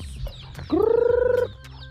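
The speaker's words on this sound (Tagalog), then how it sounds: "Ito na yung mga native na manok" A native chicken gives a drawn-out, quavering cluck-like call close by, with softer bird noises and faint rustling around it, on a farm.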